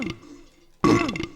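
Monster in the horror game Silent Hill 4 lets out a loud, gurgling burp that starts abruptly after a quieter growl, close and harsh, alone without talk.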